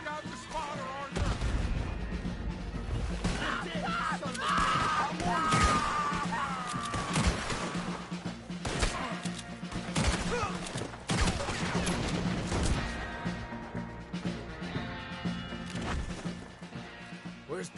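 Cannon blasts and gunfire fill a battle in the Red Dead Redemption 2 video game, with dense, continuous volleys of shots and heavy booming impacts under music, loud throughout.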